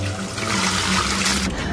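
Dirty standing water is poured from a container onto flowers, a loud, close, continuous splashing gush lasting under two seconds with no voices.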